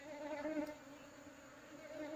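An aggressive bee colony buzzes near its nest, a faint steady droning hum that wavers slightly, heard alone without talk.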